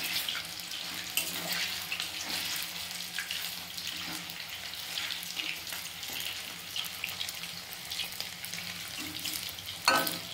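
Pieces of chicken for chilli chicken fry in a pan with a continuous close sizzle and occasional stirring clatter, a louder scrape near the end; no speech.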